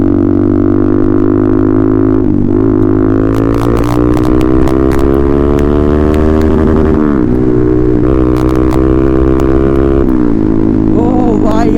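A Yamaha R15 motorcycle riding on a road, a loud close engine drone whose pitch rises and falls with shifts and throttle changes, over a continuous rush of wind.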